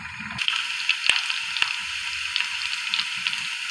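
Garlic tempering (tadka) sizzling in hot oil for saag, a steady bright crackle and hiss with scattered pops and a couple of sharp spits, close and continuous throughout.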